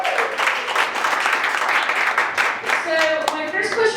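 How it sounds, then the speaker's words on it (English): Audience applause for a smart-city panel being introduced at an evening event, a dense steady clatter of many hands that holds for several seconds, with voices chattering over it toward the end. "Give them a hand of applause, please."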